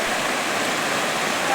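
Floodwater let out from upstream rushes through a residential colony in Malkajgiri, Hyderabad, making a loud, continuous broadband roar like a torrent, close and unbroken throughout.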